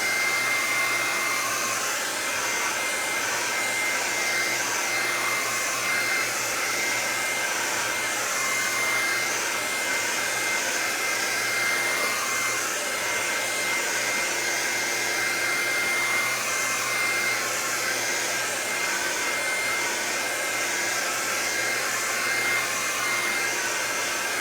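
A hair dryer blows steadily on acrylic paint, a loud and constant whooshing hum that carries on without a break for the whole stretch, with no talking.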